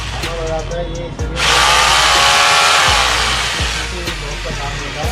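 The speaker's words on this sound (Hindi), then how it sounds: "उसके बाद इसको देखो चालू करते हैं, ये इसको ड्रिल है और ड्रिल के बाद में इसको हैमर करने जा रहे हैं" A corded hammer drill under repair starts up and whirs steadily for several seconds, loud and close, with a few faint clicks.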